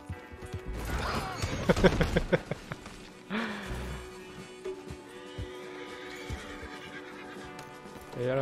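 Horse in Red Dead Redemption 2 giving a loud whinnying neigh with clattering hooves, followed by quieter snorts, thuds and game ambience.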